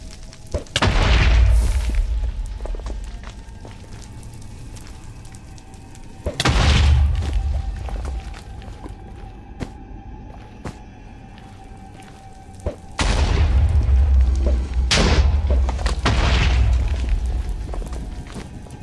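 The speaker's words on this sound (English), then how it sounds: "Almost like the explosions are sucking me in." Several deep, booming Minecraft explosions go off at intervals, each a heavy low-end blast followed by a rumbling tail over a steady background hum.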